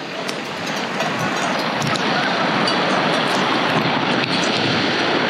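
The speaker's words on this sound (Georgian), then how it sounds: "ნახეთ მეგობრებო, სეტყვა" Hail pours down outdoors near a lake in a dense, continuous hiss and patter with gusty rumble, steady and loud throughout with no talk.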